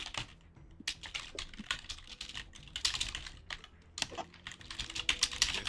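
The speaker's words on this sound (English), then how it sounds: "I'm typing." Someone types rapidly on a computer keyboard during a PC fighting-game session. The clicks are soft, close and continuous, with a few short pauses.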